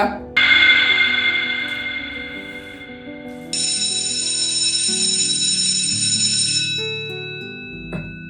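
An electronic school bell rings in long sustained tones, shifting pitch partway through, loud and alone with no talking, then cuts off near the end.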